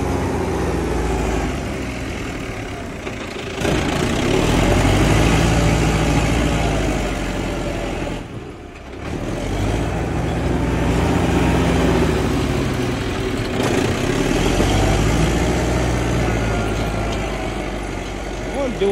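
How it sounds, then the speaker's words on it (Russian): A heavy diesel Belarus T-82 tractor engine runs close by, loud and steady, with its pitch dipping and recovering as if straining under load. "Вот и трактор подошел."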